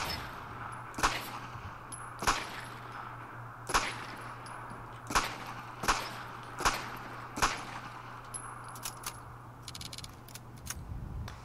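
Dardick Tround gun in Fallout 4 firing triple rounds: a series of about eight sharp, evenly spaced gunshots with slight metallic ring, spread over several seconds against a low steady background hum, with no talking.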